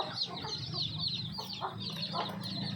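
Chickens and young chicks drinking jaggery water cluck and chirp steadily and close by, with overlapping calls over a low background hum.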